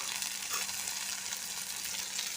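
Tomatoes and green chilli fry in a pan with a steady, dense sizzle that holds evenly throughout, and a faint stirring scrape is barely noticeable beneath it.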